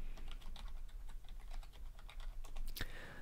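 A root password is typed on a computer keyboard: a quick, steady run of close, light key taps, ending with a sharper press.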